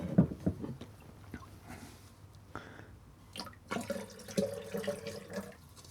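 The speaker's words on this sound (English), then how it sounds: "let's just put a bit more water in that" Water pours from a tap into a home-made vacuum blender jug for a nutritious blend, splashing in bursts that grow fuller toward the end, close and fairly quiet.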